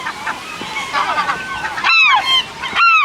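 Seagulls near Aniva lighthouse squawk in loud, harsh, close cries, first mixed into a busy background of many birds, then in two sharp, strident calls that stand out near the end.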